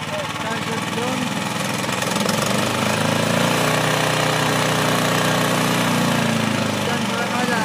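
An Ariens Professional 36 Hydro EFI snowblower engine runs loud and close as the throttle is raised. A steady, dense mechanical roar holds throughout with a slight rising swell, and a voice is partly buried beneath it.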